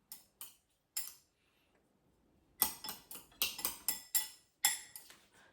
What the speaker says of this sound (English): So I mix it like quickly